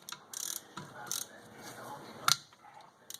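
Short bursts of ratchet clicking from a 10 mm socket working loose the eight engine case bolts on an early 2004 motor, close and intermittent with brief pauses and a sharper metallic snap.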